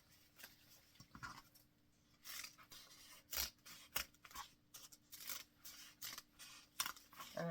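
Scissors snip through folded book pages for a book-folded tree, giving a run of short, crisp cuts in irregular bursts with soft paper rustling between, close and fairly quiet.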